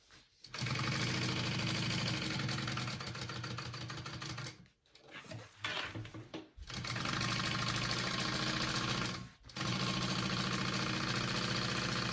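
A sewing machine runs long, loud, steady bursts while basting a tote bag together, its rapid needle clatter stopping briefly twice before starting again, with no speech.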